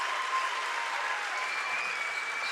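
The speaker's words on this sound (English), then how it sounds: "a well round of applause for Brendan Moodie" An audience at a Vermont Division 3 state championship basketball game between Hazen and Thetford applauds a player, steady dense clapping sustained for the whole short stretch with no pause.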